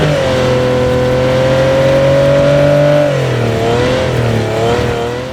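A PUBG Battlegrounds car engine roars loud and close, holding a steady high drone, then dipping in pitch as it shifts before fading slightly.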